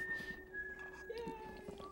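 Several workers whistle tunefully in the background of a cooking show set for a birthday party, with thin sustained whistled notes over a low murmur of talk.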